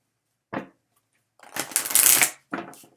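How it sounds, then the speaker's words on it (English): Oracle cards from a Romance Angels deck being shuffled by hand, a short riffle followed by a longer rustling shuffle and a final brief flutter of cards, close and clear with no speech. "I'm gonna let some cards fall out from Doreen Virtue's Romance Angels."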